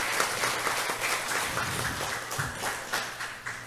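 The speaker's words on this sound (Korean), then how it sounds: "다시 한번 큰 박수 부탁드리도록 하겠습니다" Audience applause fills a symposium hall on lifelong education in Buk-gu, Ulsan, a dense, steady clapping from a large seated crowd that holds at an even level for several seconds.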